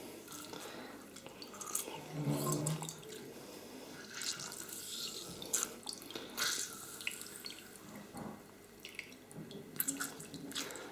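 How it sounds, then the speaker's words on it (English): Hands rinsed under a running kitchen tap after squeezing juice, water splashing and dripping into a sink in uneven bursts, fairly faint and close, with no talk. "I just rinse my hands."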